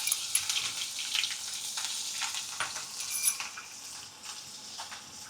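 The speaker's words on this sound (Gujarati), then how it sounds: "જે આદુ અને લસણની આવી રીતના આપણે ક્રશ કરી લીધું હતું એ આપણે આમાં નાખી દેવાનું છે વઘારમાં" Crushed ginger and garlic dropped into hot oil with cumin seeds for tempering, a steady close sizzle and crackle with occasional spoon stirring.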